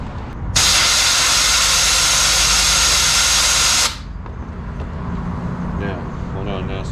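A Harbor Freight sand blaster bursts into a loud, steady hiss of compressed air for about three seconds, then cuts off abruptly, leaving quieter background noise.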